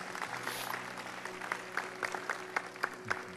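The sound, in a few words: church congregation applauding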